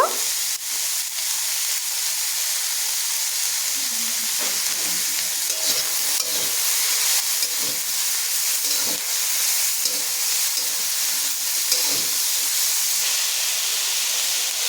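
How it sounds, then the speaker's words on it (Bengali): Chopped green chilli, tomato and vegetables lightly frying, a soft continuous hiss and sizzle with occasional scraping stirs, fairly close and even, with no voices over it. "আর দিয়ে দেবো টমেটো কুচি দিয়ে আমি সবজিগুলোকে হালকা ভেজে নেব"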